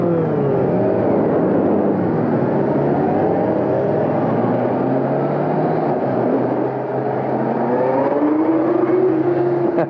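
A 2022 Kawasaki Ninja 1000SX motorcycle on a ride, its engine droning steadily and loudly with rising and falling pitch as it accelerates and shifts, heard close and uninterrupted with wind rush underneath.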